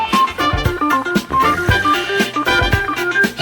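A disco rendition of Beethoven's Fifth Symphony, with a funky bass line and disco drums: a loud, dense full-band groove with a steady thumping beat and bright melodic lines running throughout.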